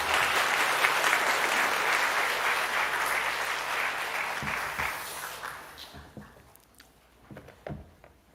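A church congregation applauds in welcome as a pastor comes forward at a revival meeting, a dense, steady wash of clapping that fades after about six seconds into scattered claps and room noise.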